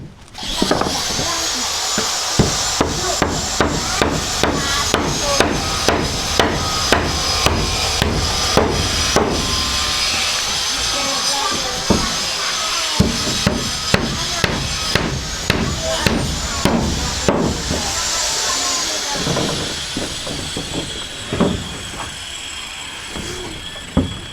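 Repeated hammer blows while laying a house floor, sharp impacts in a steady, fairly fast rhythm that run for most of the stretch with brief pauses, close and loud, with occasional voices talking between strikes.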